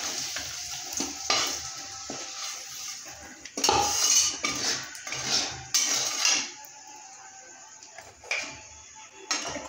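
Potatoes fried red in oil are lifted out of a pan, with a sizzle of hot oil under repeated metal clinks and scrapes of a spatula against the pan, and no one speaking.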